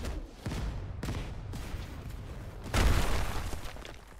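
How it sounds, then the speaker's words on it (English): Bakugo's Explosion Combo move in the Roblox game Heroes Battlegrounds lands with a few sharp blasts, building to a big, loud explosion near the end that fades into rumble. "the third move is called Explosion Combo"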